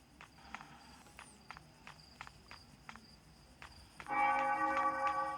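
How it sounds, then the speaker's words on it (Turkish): A video-game church bell tolls repeatedly in a steady, slow rhythm at moderate distance, followed near the end by a louder, sustained ringing tone. "Ne oluyor? Çan çalıyor."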